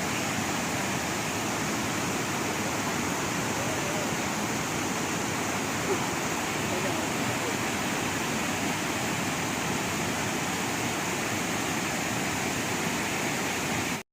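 Tad Kuang Si waterfall in Luang Prabang, Laos, pouring down from its upper tier as a steady, loud, unbroken rush of water that holds evenly throughout.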